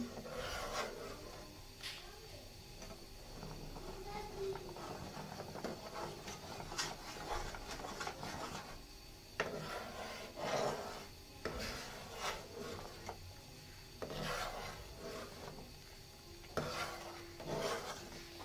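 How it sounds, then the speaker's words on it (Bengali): A spoon scrapes and stirs payesh, a Bengali rice pudding, in a pot over high heat: a steady, faint rasping and rubbing with irregular clinks against the pot, continuing without pause. "এখন আমি চুলার জালটা আবার হাই হিটে দিয়েছি এখন ভালো করে নেড়ে চেড়ে পায়েসটা রান্না করবো"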